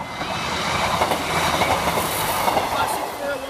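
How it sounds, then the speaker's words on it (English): A Skegness to Nottingham passenger train rolls steadily past a level crossing at High Ferry in Lincolnshire, its loud, continuous rumble and wheel clatter filling the scene close by, with faint wheel squeal on top. "the train service from Skegness to Nottingham"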